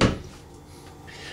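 A ball-bearing drawer on full-extension guides in a park model RV kitchen shuts with one sharp knock, followed by a short fading rattle.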